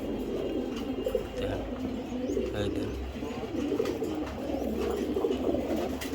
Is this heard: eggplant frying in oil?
no